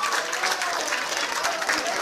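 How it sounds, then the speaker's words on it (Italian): Dense applause from a crowd of children and adults at a parish summer camp gathering, honoring the parents, continuous and fairly loud clapping throughout with no gaps. "Facciamo un grande applauso ai nostri genitori"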